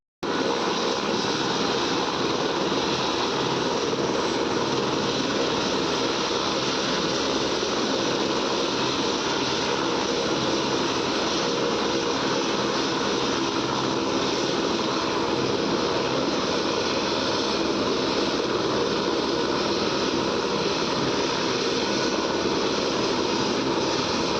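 Steady, loud cabin drone of a helicopter in flight near Ghangaria, a continuous broadband roar with an even rotor hum and no breaks.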